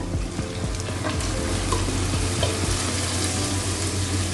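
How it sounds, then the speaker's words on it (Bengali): Spiced marinade water is poured slowly into a pan of frying hilsa fish, giving a steady, close sizzle and bubbling hiss with a running-liquid wash that holds throughout. "এখন আমি মাছের যে মশলা মাখানো পানিটা সেটা আস্তে করে দিয়ে দিব"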